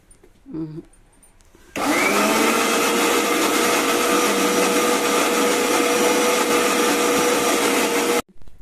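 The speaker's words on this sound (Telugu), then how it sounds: "మిక్సీ చూడండి చక్కగా నలిగింది పచ్చడి" After a brief clatter, a mixer grinder blending tomatoes for chutney kicks on and drones loudly and evenly for about six seconds before cutting off abruptly.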